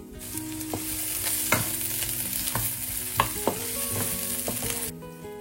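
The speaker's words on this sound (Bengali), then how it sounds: "এক কোয়া রসুন আর ক্যাপসিকাম দিয়ে এটাকে ভাজতে শুরু করলাম" Chickpeas frying in a pan with a clove of garlic and capsicum, a steady close sizzle with several sharp stirring knocks and scrapes of a utensil against the pan, ending abruptly.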